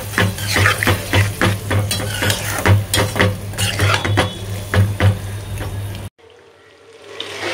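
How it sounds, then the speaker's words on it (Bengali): Shrimp stir-fried in a pan with chili for a Barishal-style prawn dish, a steady sizzle under repeated scraping and stirring strokes of a spatula against the pan, close and loud, ending abruptly in near silence. "সুন্দর করে কষাকষি করে লই।"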